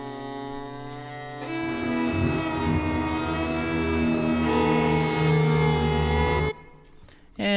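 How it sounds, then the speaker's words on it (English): Sustained orchestral string ensemble from the Infernus Strings sample library playing a wavering articulation, a dense, loud held chord swelling for several seconds before cutting off abruptly. "I'll just add a waver, which sounds like this."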